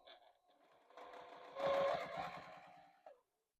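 Sewing machine stitching two quilted star patches together, beginning with a short backstitch and then running steadily around the star's edge; a close, continuous whir swells midway and stops abruptly.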